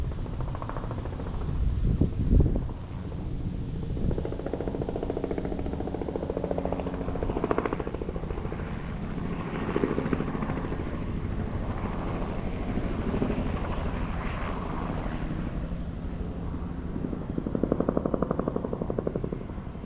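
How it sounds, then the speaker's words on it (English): A news helicopter drones overhead with a steady rotor thrum, mixed with gusty wind noise on the microphone throughout. "Hear the news chopper up above."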